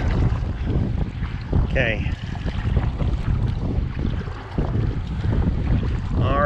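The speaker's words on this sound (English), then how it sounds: "And the wind is coming from my right." Wind rushes over open water and buffets the microphone while paddling an Oru Haven tandem folding kayak, a loud, steady roar with light splashing, and a person speaks briefly.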